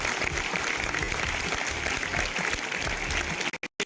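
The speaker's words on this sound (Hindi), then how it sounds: "तो आप अपने लिए एक जोरदार ताली बजाएं।" A seminar audience gives loud, dense applause that holds steady for several seconds before breaking off abruptly into short gaps.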